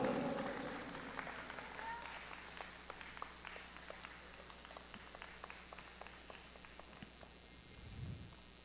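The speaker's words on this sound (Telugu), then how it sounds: "గట్టిగా చప్పట్లు" Scattered, fairly faint clapping from an audience at a TANA 2017 convention, with sparse individual claps spread over a low steady hum and no speech.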